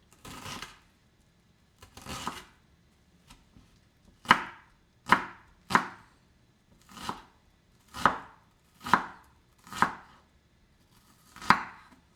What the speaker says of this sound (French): On coupe en petit dé.